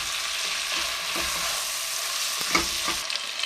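Chicken curry with thyme and bay leaf sizzling in a pot for cari de poulet, a dense continuous frying hiss with a few stirring knocks near the end.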